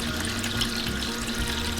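Water runs steadily down through a homemade gold sluice with a cut slit and into a pump tub, a loud, continuous close-up gush and splash.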